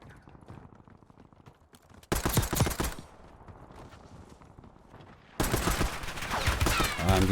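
Gunfire in Call of Duty Warzone, Black Ops 6 Area 99 map: two loud, sharp bursts of rapid automatic fire, each lasting about a second or more, separated by quieter stretches of faint footsteps and movement.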